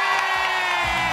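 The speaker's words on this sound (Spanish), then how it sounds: "¡Aplauso para el Peque!" A television game show studio audience for El Precio Justo cheers and applauds in a brief, loud, dense burst of crowd noise.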